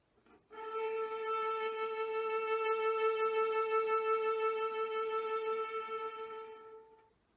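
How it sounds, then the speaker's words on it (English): A single sustained bowed string note with a slight, narrow vibrato, held steadily for several seconds before fading, solo and fairly soft. "A narrow vibrato would sound something like this."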